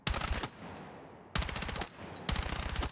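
Three sharp rapid-fire gun bursts in Battlefield 6, each a quick rattling string of shots separated by short pauses, close and punchy.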